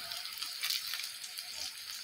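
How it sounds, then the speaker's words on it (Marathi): Chopped onion frying in a pan for a home-cooked matki dish, giving a steady, close, hissing sizzle throughout with no talking. "तर इथं बघा कांदा टाकलेला आहे मी तळण्यासाठी"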